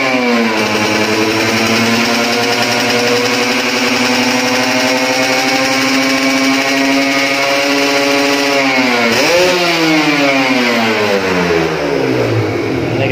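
A Kawasaki Ninja RR motorcycle engine runs with a loud, steady buzzing drone, dips briefly near the end, then revs up with a rising pitch. No voices are heard.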